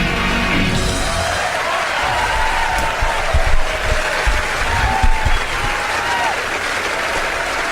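Audience applause with crowd noise follows a song on a radio music show, a steady wash of clapping running the whole stretch with a faint tune lingering underneath.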